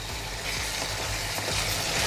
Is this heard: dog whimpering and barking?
no